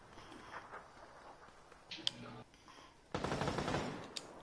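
AK rifle gunfire in a PS4 battle-royale shooter: a couple of sharp shots near two seconds, then a loud, dense burst of rapid fire over the last second and a half, against quieter game ambience.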